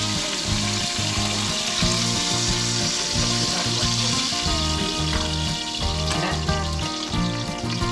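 Grouper fillet frying in olive oil in a pan, a steady dense sizzle running continuously and fairly loud throughout, with a rhythmic low thumping pattern of music underneath.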